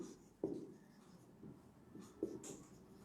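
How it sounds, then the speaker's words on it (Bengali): Pen or chalk writing on a board during a maths lesson, heard as faint, close scratchy strokes with a couple of sharper taps and no talk. "দেখো এখানে আমি একটু আলাদা করে লিখি"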